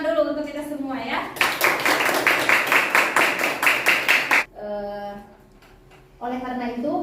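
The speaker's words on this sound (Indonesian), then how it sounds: "kita beri tepuk tangan dulu untuk kita semua ya" A classroom group claps together for about three seconds, a dense burst of hand claps between stretches of a teacher's voice. Speech comes before and after the applause.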